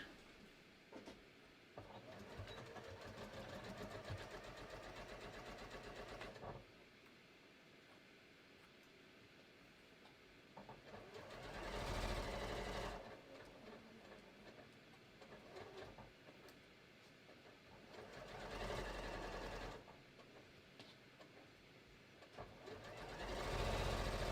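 A sewing machine runs in several bursts as it stitches a seam on a pair of shorts, with the needle in the middle position and a stitch length of about 3, close and steady, with a person talking in the pauses between runs.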